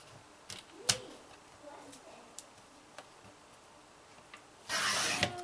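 Cardstock being cut to size for a 5x7 card box, with scattered soft scrapes and sharp ticks of the blade followed by a longer, louder rasping cut near the end, close and without talk.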